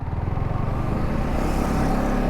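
A motorcycle engine revs up as the bike pulls away, a throbbing low putter building steadily and heard close by, with no talking.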